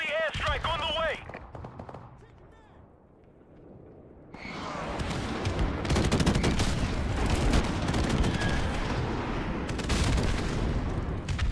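Heavy airstrike blasts and sustained gunfire from Call of Duty 4 Remastered roar loudly for most of the stretch after a quieter opening, with scattered voices breaking in.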